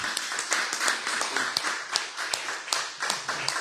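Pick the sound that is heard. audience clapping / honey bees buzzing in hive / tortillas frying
audience clapping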